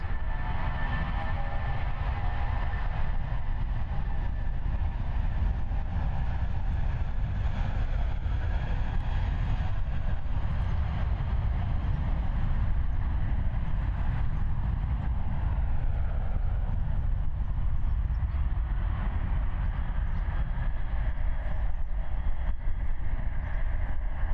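Steady, loud low roar of jet engines heard from inside a cabin at Christchurch Airport, continuous and droning with no talking.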